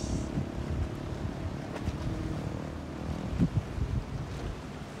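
A boat rides over calm water, with steady low rumble and rushing wind noise throughout, close and moderately loud, with a few brief knocks near the end and no talk.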